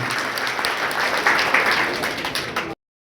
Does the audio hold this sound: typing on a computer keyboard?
no